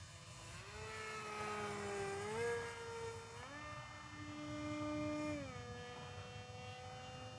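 An H-King Skipper electric RC airplane flies overhead at a field, its motor and propeller making a steady buzzing whine that rises and falls in pitch with the throttle, moderately close.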